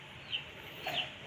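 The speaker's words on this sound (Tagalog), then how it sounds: "napakaraming manok dito" Chickens cluck in two short bursts near a backyard pepper garden, faint over a quiet outdoor background.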